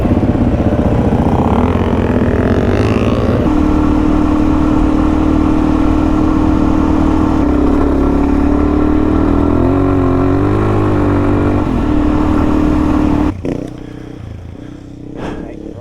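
Touareg and Yamaha Tenere adventure motorcycles run close by with a loud, continuous engine drone, shifting slightly in pitch as they rev, then easing off near the end.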